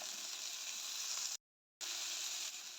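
Onions frying in a pan for a restaurant-style chicken jalfrezi, a continuous soft sizzle broken by a short gap of silence before it resumes.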